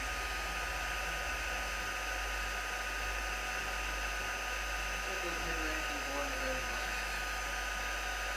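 A heat embossing gun blows steadily on a card, a constant airy whir like a small hair dryer that holds an even level throughout, with faint voices murmuring underneath.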